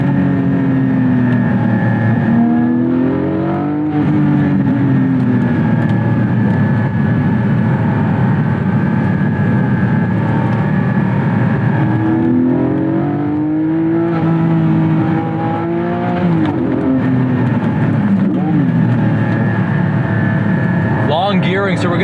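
A Porsche Spyder's engine hums and swells in second gear with long gearing on a winding road, a steady in-cabin drone with rising and falling pitch as it accelerates, while someone talks over it.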